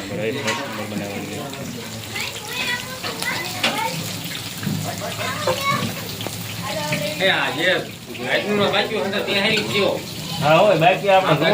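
Bhajiya fritters sizzle in hot oil with a steady crackling hiss, while voices talk over the frying close by.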